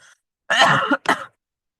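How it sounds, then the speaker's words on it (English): A single close throat clearing followed by a short cough, loud and abrupt, with a faint breath just before. "Cough."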